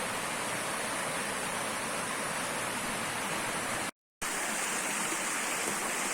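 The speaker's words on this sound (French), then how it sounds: "Voilà, il y a vraiment de l'eau, donc ça coule en haut." A stream in the Aude, at the Lauquet springs, pours over and through boulders fallen from the cliff walls, making a loud, steady rushing roar close by, briefly cut out once near the end.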